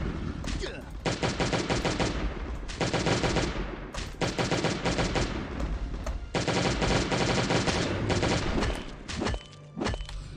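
Rapid automatic gunfire from the survival video game Last Day on Earth, loud, sustained bursts of dense shots separated by brief pauses, ending in a short quieter gap.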